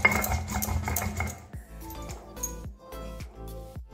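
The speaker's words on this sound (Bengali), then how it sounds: "এবারে এই সর্ষেটা ফেটে নেব" Mustard seeds being ground by hand in a kitchen, with rhythmic scraping and clinking strikes of stone or metal, first a dense grinding rasp, then a series of sharp separate knocks.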